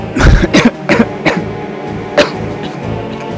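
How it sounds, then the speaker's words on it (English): A person coughs repeatedly, several short harsh bursts close to the microphone, with a throat-clearing sound between them and quieter background noise. "But I'm still coughing quite a lot during the day"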